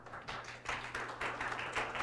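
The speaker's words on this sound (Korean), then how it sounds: "큰 박수 부탁드립니다." Audience clapping at a deep-tech innovation forum as a presenter is called to the stage, a soft, steady patter of many hands heard at some distance.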